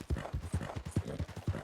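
Horse hooves clip-clop steadily in Red Dead Redemption 2, a quick, even four-beat rhythm of dull thuds on a dirt trail, fairly close and continuous with no voices over it.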